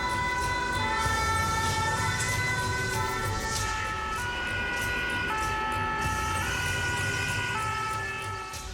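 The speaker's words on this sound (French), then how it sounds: "L'ambulance de réanimation de la caserne de Louvain part immédiatement au domicile de la victime." A resuscitation ambulance leaves the Louvain fire station with its two-tone siren wailing loud and close under a steady engine rumble, its alternating tones repeating for several cycles before fading slightly as it pulls away.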